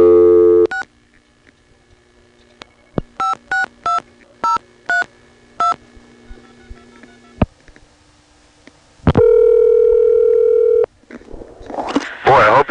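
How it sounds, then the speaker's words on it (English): An old coin payphone, a customer-owned unit in Atlanta, 1986, dials a number in a quick series of touch-tone beeps, then a sustained ring tone sounds over a quiet line before hiss and clatter. "Now I'm going to dial the same number again and let it ring three times."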